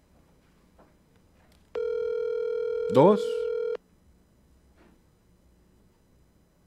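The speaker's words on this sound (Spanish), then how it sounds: "Ahí estamos buscando otro teléfono para marcar." Telephone line tone during a radio call-in show in La Paz, Baja California Sur: a steady, even tone holds for about two seconds, and a brief voice speaks over its end.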